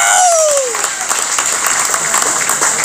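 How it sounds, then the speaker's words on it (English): Concert audience applauding loudly right after a call for a round of applause, a dense, steady wash of clapping with a brief descending tone at the start, continuing without a break for about three seconds. "Y'all give them a round of applause."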